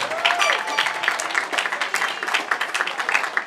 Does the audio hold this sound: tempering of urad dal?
no